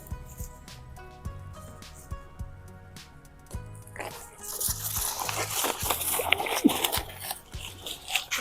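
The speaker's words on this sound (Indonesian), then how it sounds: "Saya pasang, lalu saya buka keran." Water bursts from a hose fitted to a tap and sprays across avocado trees, first a few short knocks and clicks, then a loud, broad hissing spray that keeps going to the end.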